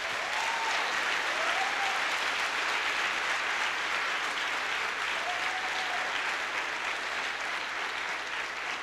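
A church congregation at a worship service gives a long, even round of applause, a dense steady wash of clapping from many hands with faint voices rising briefly beneath it.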